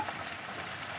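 Cauliflower and potatoes fry in oil in a covered wok, giving a faint, steady sizzle with no voices.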